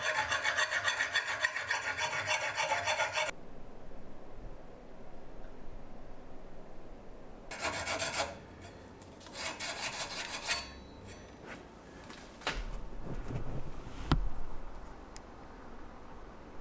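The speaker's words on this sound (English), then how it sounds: "Maybe I'll try a metal file and then this." Metal file rasping on a cast bronze dagger blade with a wavy edge, in several loud scraping strokes separated by pauses, followed by lighter handling knocks and scrapes.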